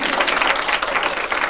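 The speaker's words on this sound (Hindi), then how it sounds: "तालियां दे सकते हैं" An audience bursts into dense, steady applause, loud and close, a continuous wash of clapping with no pauses.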